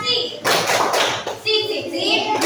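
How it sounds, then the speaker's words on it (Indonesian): Schoolchildren in a classroom do a rhythmic appreciation clap, short bursts of group clapping mixed with children's chanting voices, loud and close. "Tepuk apresiasi"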